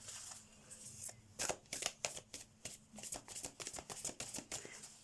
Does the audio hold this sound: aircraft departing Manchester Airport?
no